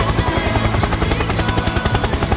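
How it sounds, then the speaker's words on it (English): A helicopter's rotor thumps in a fast, steady pulse, loud and close and filling the whole short stretch with a dense engine drone. "Helicopter, helicopter."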